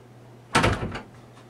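A household door is shut once with a single close thud and short rattle, sharp and near after a quiet room.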